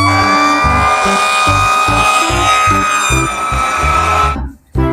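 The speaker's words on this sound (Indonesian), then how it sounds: "di sini ada mobil pemadam kebakaran" A loud electronic fire-engine siren wailing from a toy over a choppy, repeating beat, cutting off briefly just before the end.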